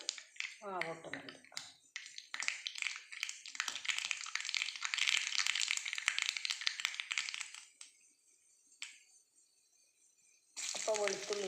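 Mustard seeds crackle and pop in hot coconut oil with a few dried red chillies, a dense quiet spattering that holds for several seconds before easing off, with someone speaking briefly at the start and end.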